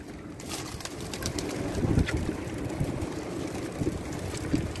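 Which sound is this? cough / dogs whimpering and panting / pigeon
pigeon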